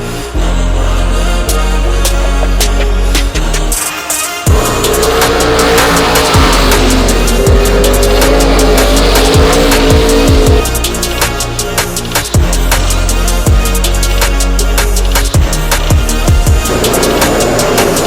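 Race car lapping a track in practice, engine loud and close with repeated revving, gear changes and tire squeal, the pitch rising and falling as it works through corners for the whole stretch.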